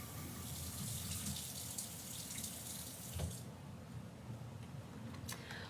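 A watercolor paintbrush is rinsed under a running tap, with steady hiss of flowing water into a sink, a brief splash midway and quieter trickling toward the end.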